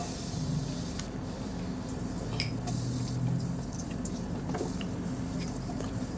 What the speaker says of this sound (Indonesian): Setelah minyak panas, kita masukkan untuk bawang-bawangnya.